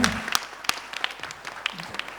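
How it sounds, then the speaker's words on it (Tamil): Concert audience clapping sparse, distinct claps with some hand hits ringing out over a low murmur, short and moderately close, a brief voice fragment at the start. "கைத்தட்டி அவங்களுக்கு பிறந்தநாள் வாழ்த்துக்கள் சொல்லிருங்க."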